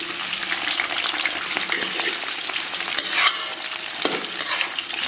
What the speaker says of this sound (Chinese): 油温3-5成热，咱们把葱姜蒜给它下里边